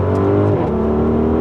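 A 2020 Audi RSQ8 engine revs loud and close, its steady drone dipping sharply as a quick gear shift cuts in before the pitch settles and climbs again.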